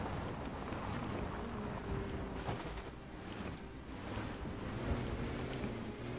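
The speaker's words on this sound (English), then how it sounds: "I love the sound of the engine on this thing." A vehicle engine in the zombie survival game Project Zomboid drones steadily and loudly throughout, a continuous low rumble with no speech over it.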